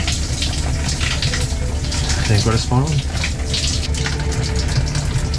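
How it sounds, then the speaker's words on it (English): A roasting hot shower runs inside a converted bus, a steady close gush of water that fills the whole clip, with a person briefly speaking over the spray. "We enjoyed a roasting hot shower"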